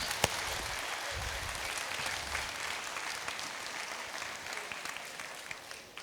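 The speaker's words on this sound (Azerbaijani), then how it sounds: "özünüz alqışlayın" A live audience at a motivational stage event applauds steadily, a dense, continuous wash of clapping that stays loud for about six seconds before easing slightly at the end, with no talking.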